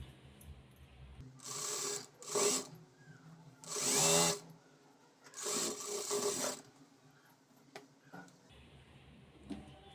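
A sewing machine stitches a blouse lining in several short bursts of whirring, each lasting a second or so and separated by quiet pauses, up close with no talk.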